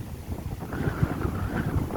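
Steady gusty wind buffeting the microphone at a fishing lake, Pilsworth Fisheries in Heywood, near Bury, North Manchester, a constant low rumble with surging bursts throughout.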